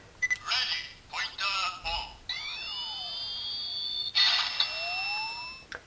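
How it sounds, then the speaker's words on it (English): A Kamen Rider Zi-O DX Faiz Phone X toy plays electronic sound effects: bright beeping tones, a sweeping synthesized chime and a buzzing electronic burst, loud and close, with a person talking in between. "it actually uses the noise that the original Faiz phone makes"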